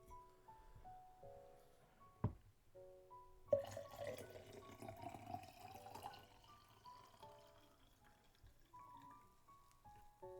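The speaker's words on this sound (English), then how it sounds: "Just a bit of sake there, and mix it with water." Water is poured into a glass of sake to dilute it, a brief, faint splashy pour in the middle, with soft background music tones before and after.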